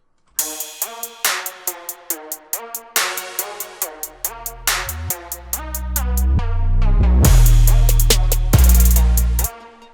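A melodic chord trap beat with reversed, distorted samples plays: rhythmic swelling hits with sharp cut-offs, then a heavy deep bass rises in and a dense final burst, all loud and without talk.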